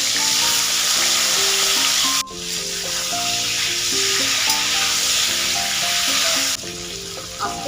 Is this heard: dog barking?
no